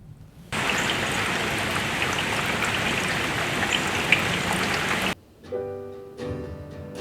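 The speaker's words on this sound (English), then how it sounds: "Looking out the window, it's raining again." Rain falls outside a window as a dense, steady hiss that starts abruptly and runs for several seconds before cutting off, followed by quieter tonal sounds.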